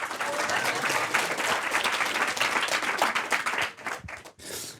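Audience applause at a preliminary pitch session for a sextech lab, a dense, loud wash of many hands clapping for nearly five seconds, with a brief dip and fresh burst near the end.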